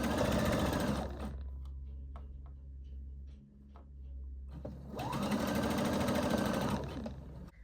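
A sewing machine stitches a skirt seam 1.5 cm from the edge in two steady bursts of whirring, with a quieter pause between them and a low hum underneath.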